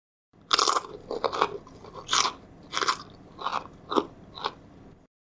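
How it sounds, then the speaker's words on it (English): A cookie is bitten and crunched in a string of sharp, crisp bursts, close and distinct, each crunch separated by short pauses against a quiet background. "when you eat a cookie,"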